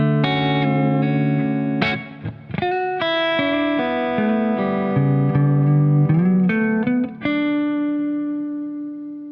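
Electric guitar with distortion and effects playing chords and lines with microtonal passing tones, loud and sustained, with gliding pitch bends between held notes and a long ringing final chord.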